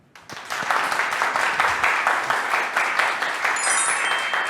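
Applause from a lecture audience thanking a professor at a university talk on demographic change fills the room after a brief quiet start, a dense steady patter of many hands that holds at even loudness throughout.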